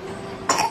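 A young child gives a single short cough, close and brief, after a quiet moment.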